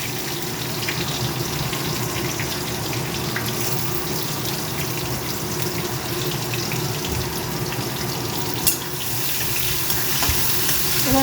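Chopped onion hits hot oil with a bay leaf in a pan, making a steady, crackling sizzle close by that holds for several seconds with a few louder pops and no speech.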